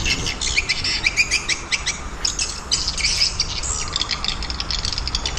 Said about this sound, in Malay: Sorry lah kat sini bising sikit. Bunyi rumah burung.